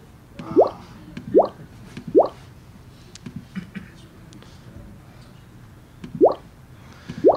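Bubble pops from a simple WAV sound effect in a 3D web demo, a few short, bright blips spaced apart, two early groups, then a pair near the end, over a quiet room hum with faint background noise.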